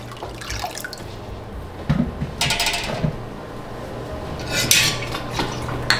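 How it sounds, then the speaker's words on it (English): A metal spoon stirs annatto coloring into a small amount of cool water, giving a few sharp clinks against the container amid soft watery sloshing, close and without speech. "With my annatta, I always mix it in with a little bit of cool water."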